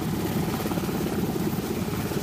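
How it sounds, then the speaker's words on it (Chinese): A Black Hawk helicopter hovers at a base during a rescue demonstration, its rotor thudding in a loud, continuous, even drone with no voices. "搜救人员自直升机顶悬慢慢降落地面，将救援的对象吊上直升机送医。"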